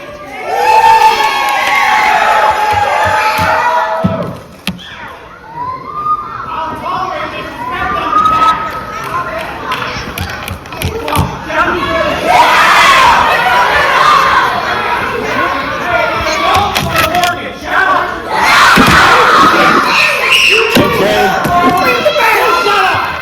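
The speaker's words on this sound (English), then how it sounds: "Cheer for him." Wrestling crowd at an All-Star Wrestling championship match cheers and shouts loudly, with children's voices prominent, a brief dip around the fifth second, then surging again in repeated waves.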